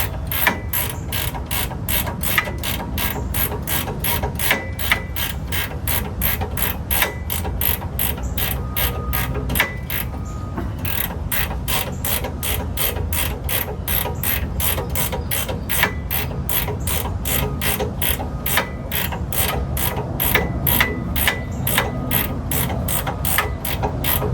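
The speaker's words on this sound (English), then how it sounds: "Use my ratchet wrench." A ratchet wrench snugs down suspension bolts on a GTO, giving a close, loud, continuous run of rapid clicks with a brief break near the middle and no speech.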